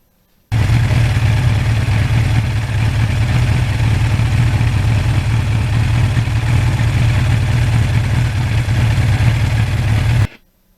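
A 38-year-old Suzuki GS1100E motorcycle engine idles steadily, a loud, even low rumble that holds unbroken for about ten seconds before cutting off abruptly.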